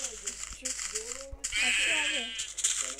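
Minecraft Pocket Edition sheep bleats sound out several times, wavering and fairly close, over a soft electronic background with scattered clicks.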